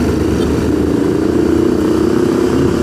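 Motorcycle engine droning steadily while riding on the Bogor–Sukabumi highway, a loud continuous mid-pitched hum with road noise and no talk.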